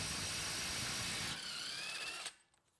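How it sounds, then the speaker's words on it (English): An impact wrench buzzes off a 30mm front right CV axle nut on a 2011-2016 Toyota Sienna AWD, a close continuous whirring rattle that stops abruptly, leaving a quiet tail. "I'm gonna be using an impact to buzz mine off."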